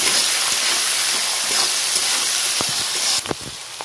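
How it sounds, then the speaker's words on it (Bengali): Chana dal fries with curry leaves in a hot pan, giving a loud, steady, close sizzle and hiss. A few stirring scrapes and knocks come near the end. "এবার আমি ছোলার ডালগুলো দিয়ে দেবো, একটু নেড়ে নেবো ভালো করে।"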